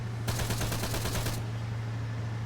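Rapid burst of automatic gunfire in the Arma 3 video game, a fast even rattle of about a dozen shots lasting around a second over a steady low hum, moderately distant.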